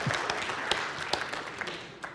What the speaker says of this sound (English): Do a big round of applause for the amazing Garrett.